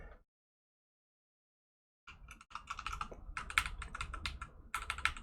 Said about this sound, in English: I don't know why I'm typing it in as 999